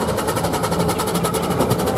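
A steam road locomotive runs at a steam rally parade, giving a steady, rhythmic mechanical chuffing and rumble close by.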